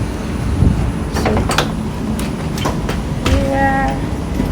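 Inside a commuter train at a station, with low rumbling interior noise, clicks and thuds of doors, and a rising electronic tone near the end, while a voice speaks briefly.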